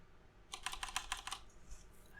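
Fast typing on a computer keyboard, a quick run of about eight crisp, close keystrokes lasting under a second in a quiet room.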